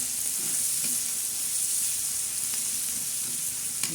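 Egg bhurji with onion, turmeric added, sizzling and frying steadily in a pan, with a few faint scrapes of stirring over a continuous close hiss.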